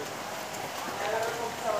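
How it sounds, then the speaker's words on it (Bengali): Heavy rain pours steadily on a broken, waterlogged rural road in Sakhipur, Bangladesh, where auto-rickshaws get stuck, a continuous close hiss with faint voices and traffic underneath. "আজকে প্রচুর বৃষ্টি হচ্ছে।"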